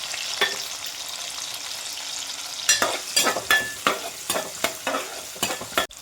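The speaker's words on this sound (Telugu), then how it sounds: "మెంతులు కొంచెం ఫ్రై అయిన తర్వాత ముందే పొట్టు తీసి పెట్టుకున్న చిన్న ఉల్లిపాయలను వేసుకోవాలండి" Small onions and slit green chillies fry with fenugreek seeds in oil for an egg curry, a steady sizzle at first, then repeated scraping stirs in an uneven rhythm over the crackling.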